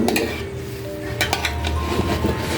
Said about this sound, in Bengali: চিকেনটা মিশিয়ে দেবো, এই যে মিশিয়ে দিচ্ছি।